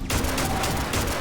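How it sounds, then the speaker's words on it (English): A quick burst of automatic turret fire in the space game Starfield, rapid sharp reports packed tightly together over about a second, loud and up close with no talking. "Some of the turrets are shooting it"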